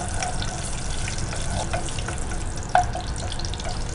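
Whole spices (cinnamon, cloves, cardamom, shahi jeera, mace) frying in oil in a pan for mutton haleem, a steady soft sizzle with a brief sharp clink partway through.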